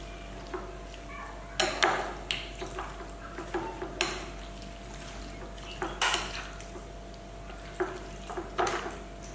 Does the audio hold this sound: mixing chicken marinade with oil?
yes